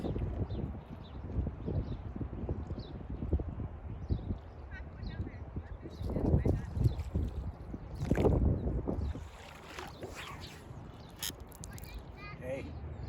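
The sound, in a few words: wind blowing outdoors while fly casting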